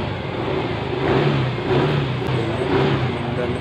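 A Yamaha Mio i 125 scooter engine runs after being fitted with a new spark plug, giving a loud, close idle that swells in three gentle revving surges.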